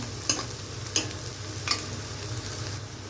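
Leafy greens fry and get stirred in a pan for an egg bhurji, a steady sizzle with a few sharp scrapes of the spatula against the metal, close and alone with no talk.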